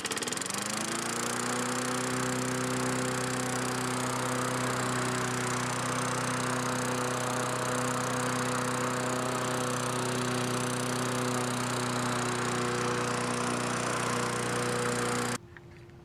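A Tecumseh-powered lawn mower, a garbage-picked machine after repair, runs steadily at a fairly high idle with a strong, even engine drone close by, then cuts out abruptly near the end.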